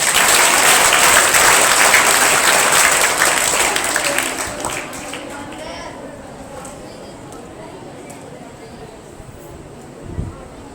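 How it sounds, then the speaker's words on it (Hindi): A school farewell-ceremony audience bursts into loud, dense clapping that stays strong for a few seconds and then thins and fades to a scattered trickle, with a low thump near the end. "चलो इस बात पर ही सही एक बार जोरदार ताली तो बजा दो।"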